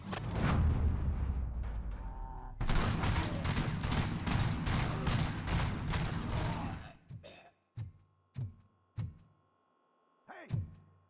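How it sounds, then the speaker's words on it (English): Gunfire in the first-person shooter RoboCop Rogue City: a loud, sustained burst of rapid automatic shots, then several isolated heavy single shots with ringing decay amid quieter gaps and a brief voice. "Am I hearing gunshots?"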